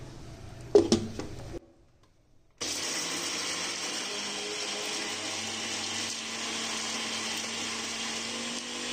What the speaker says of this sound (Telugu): ఇప్పుడు మిక్సీ వేసుకుందాం